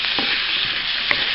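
Ground pork sizzles steadily in a pan over low heat, a constant close frying hiss with a couple of soft stirring scrapes and a small clink near the end.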